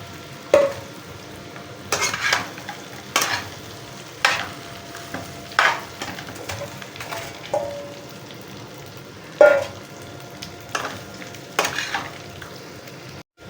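Onions frying in a pan with a soft steady sizzle underneath, interrupted by repeated sharp scrapes and clinks as a utensil stirs them at irregular intervals.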